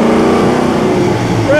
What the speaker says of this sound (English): Little downshift.